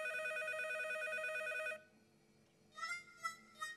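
A cartoon telephone rings with a sustained bright electronic tone that stops abruptly, followed after a short quiet gap by three quick, lighter chirping rings.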